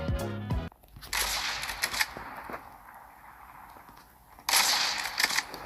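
Gunfire in the video game Call of Duty: a fast burst of automatic shots at the start, then scattered distant shots and noisy game ambience, with another loud burst near the end.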